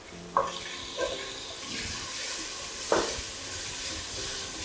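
Boneless chicken fries with ginger-garlic paste in a pan: a soft, continuous sizzle punctuated by several sharp clacks of a utensil stirring against the metal, no voices.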